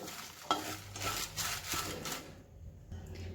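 Whole red chillies and spices dry-roast in a pan for sambar masala, making soft scraping, rustling stirs with light crackles, close and quiet in uneven strokes, then a brief pause.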